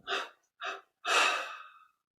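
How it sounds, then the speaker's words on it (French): Three separate exhalations during meditation breathing: two short puffs, then a longer, fuller breath out that trails off, close and alone. "Expire en 3 fois."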